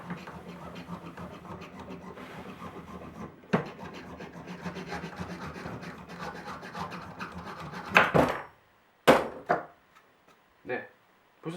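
A jeweler's saw cuts through a block of jewelry carving wax with a steady rubbing, rasping stroke rhythm for about eight seconds, close and moderately loud, followed by a few short separate scrapes and pauses.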